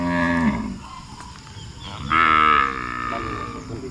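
A Holstein cow on a farm lets out a loud, close moo, followed a moment later by a second, stronger drawn-out moo with a rising tone, and no voices alongside.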